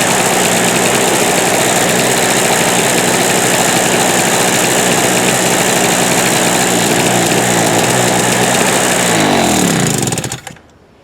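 Harbor Freight Storm Cat 2-cycle generator engine running loud and close with a buzzing, uneven misfiring drone, then cutting out and winding down to silence near the end.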